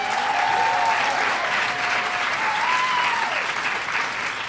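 Audience at St. Louis Design Week claps steadily, a dense even wash of applause from a sizable crowd that stays loud throughout, with a few faint voices and a thin whistle over it.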